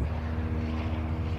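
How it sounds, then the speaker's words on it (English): Several planes of different types arrive at an air show, heard as a steady, loud droning aircraft engine hum with a low propeller-like rumble throughout, no voices. "there are lots of different types of planes arriving"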